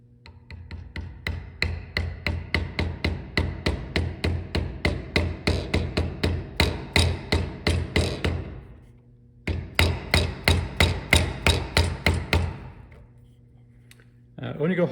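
Mallet striking a chisel to cut the mortise of a wedged Chinese/Japanese mortice and tenon joint in wood, with dozens of steady, close rhythmic knocks, a brief pause, then another run, under a low hum.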